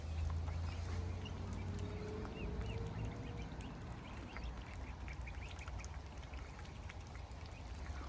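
Ducklings and adult ducks eating cornflakes, with steady soft quacking and pecking close by over a constant low background hum, no talking.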